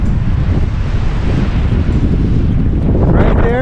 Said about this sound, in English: And it's cold and windy